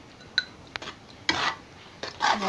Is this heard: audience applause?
no